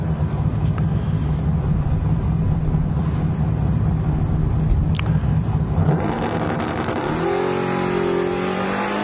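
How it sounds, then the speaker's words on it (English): A Ford Pinto drag car at a hot rod drag week event in Tulsa runs hard, its loud steady engine roar holding for several seconds before the pitch shifts and begins to rise as it accelerates away. "Here comes that little Pinto. This thing runs pretty hard."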